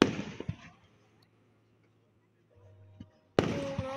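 Fireworks burst loudly at the start, trail off into near silence with a faint low hum, then erupt again in a second sharp, crackling volley.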